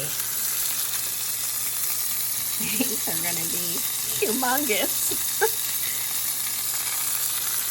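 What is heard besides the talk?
bacon breakfast roll ups frying in a pan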